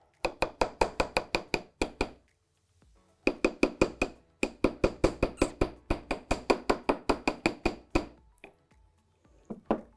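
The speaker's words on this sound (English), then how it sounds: "grab my bench block and hammer it out" A hammer strikes a jewelry wire hoop resting on a bench block, giving rapid, evenly spaced sharp metallic taps in several quick bursts separated by short pauses, close and clear with no talking.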